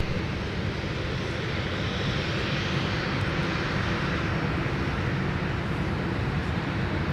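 An Air Canada jet taxiing past at MSP airport in winter gives off a steady, loud broadband engine roar that holds close and even for the whole stretch, with no talk over it.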